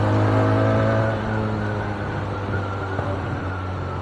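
A Kawasaki ZX10R inline-four superbike engine hums at a steady, smooth drone with a strong low tone and slight changes in pitch, like a bike cruising along, loud and continuous with no talking.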